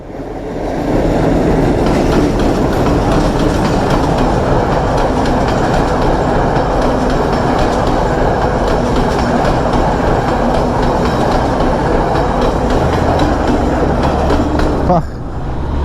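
A train roars past very close in Sri Lanka, a loud continuous rumble with rhythmic wheel clatter lasting about fifteen seconds before cutting off sharply.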